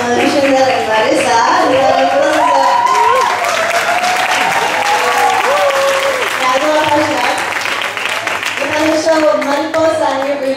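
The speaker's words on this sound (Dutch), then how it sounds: "Dus geef ze een warm applaus." Audience applause and clapping fill the room after a bachata dance show at a salsa venue, steady and loud for the whole stretch, with music and voices mixed in beneath.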